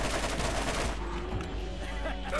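Gunfire in the Borderlands shooter video game: a dense, continuous rattle of rapid shots, loud and close, with a voice faintly underneath.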